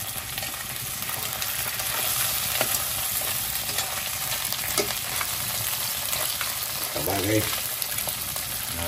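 Fat mud crab sautéing in a hot pan, a steady close sizzle and frying hiss with occasional stirring scrapes, and a brief voice speaking near the end.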